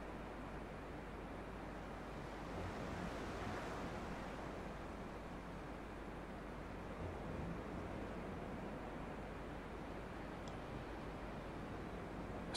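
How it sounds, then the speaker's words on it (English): Ocean waves wash against an island in the game Dear Esther, a soft continuous surf rumble with gentle swells, faint and distant with no voices. "You can hear the waves hitting the island"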